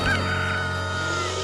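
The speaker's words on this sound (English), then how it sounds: "Quack!" A cartoon duck quacks in a long, honking, nasal call that holds steadily throughout, loud and close, with a cartoon soundtrack's tonal backing beneath it.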